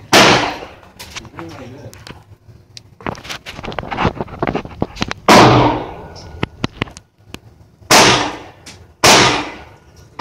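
Rapid gunshots fired from a hill outdoors, loud sharp cracks with wind noise, several spaced bursts over the whole stretch, with a few bursts especially heavy near the start, middle and end.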